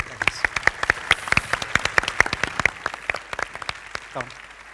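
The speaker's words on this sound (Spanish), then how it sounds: "Un aplauso para ellos tres, por favor." Audience applause at a Google Cloud Next keynote in Madrid, a short burst of sparse, distinct hand claps that thins out as it goes, with a voice briefly heard near the end.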